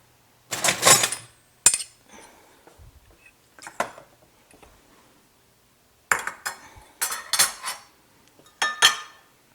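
A metal utensil clinks and scrapes against a pan as flour is mixed into about a tablespoon of warm fat, in two clusters of sharp rattling bursts separated by a quieter pause.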